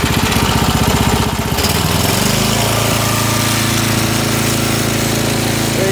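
A snow blower engine runs loud and close, a rapid chugging rattle at first that shifts into a steadier, higher-revving drone with a strong buzzing tone, with no voices over it.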